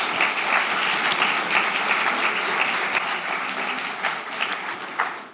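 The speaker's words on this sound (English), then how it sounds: "Give yourselves a round of applause." A large crowd claps steadily at the Pancakes and Politics forum, a dense and even wash of applause that carries through to the end with a few sharper claps near the finish.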